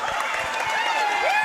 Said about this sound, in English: this crowd is getting ecstatic in here now, this Bartow crowd